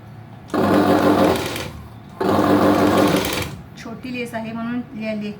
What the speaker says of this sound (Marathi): मधून शिलाई मारायची